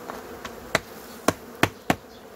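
Honeybees in a hive being prepared for winter buzz in a steady, close hum, broken by several sharp taps or knocks.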